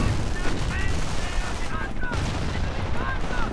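Rapid gunfire and booming cannon shots from a Sherman tank and other units in a World War II strategy video game, a dense continuous clatter of shots under a commentator's voice.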